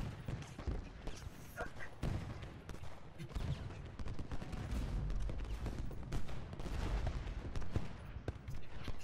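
Musket volleys and cannon fire from the Civil War video game Ultimate General: Gettysburg crackle in dense, overlapping bursts with heavy booms. The firing builds steadily louder, and a player's voice sometimes talks over it.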